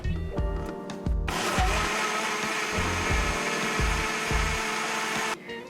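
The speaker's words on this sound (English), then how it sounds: "we're just going to blend this for 30 seconds, and you don't want to over blend it, so just 30 seconds in the blender should be enough" A kitchen blender whirs as it blends oats and water into oat milk, a loud continuous motor roar for about four seconds, preceded and followed by brief knocks and clatter.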